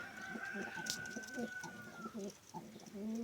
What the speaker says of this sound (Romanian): Are porumbei nume de ornament.